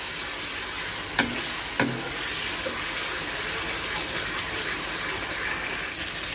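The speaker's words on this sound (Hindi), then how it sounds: "इसको हम अच्छी तरह भून लेते हैं।" Garlic-ginger paste and cumin fry in a wok with a steady, even sizzle, broken early by two sharp metallic clanks from stirring, with no voices.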